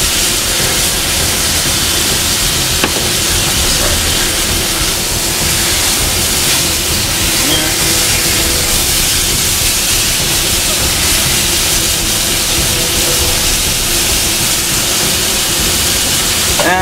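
Meat simmering in wine in a hot pan at 400 to 450 degrees gives a loud, steady broadband hiss and roar of bubbling liquid, close and unbroken throughout.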